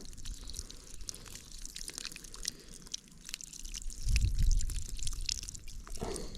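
Water drips steadily from a drip irrigation emitter onto raspberry plants outdoors, a soft trickling under faint ambient noise, with a slightly louder splashing burst near the end.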